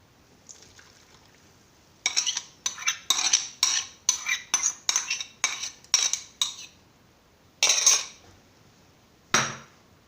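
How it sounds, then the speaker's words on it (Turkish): A utensil stirs flour and yeast in a bowl for homemade bread, giving a quick series of sharp scraping clinks against the bowl, close and distinct, with short pauses between bursts. "Şöyle bir karıştırıyorum her tarafa eşit bir şekilde dağılsın diye."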